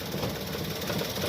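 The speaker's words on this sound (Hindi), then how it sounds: "अभी फ्रेंड देख सकते हैं कितनी मिसफायरिंग की आवाज़ आ रही है" Idling and revving Maruti Alto K10 engine with a misfire, a steady close mechanical rumble and uneven knocking pulses running continuously for a second or so, with no voices over it.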